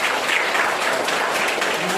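Lively clapping from a gathering at a Catholic school service, right after a closing prayer, continuing evenly and fairly close for the whole moment, with no distinct voices over it.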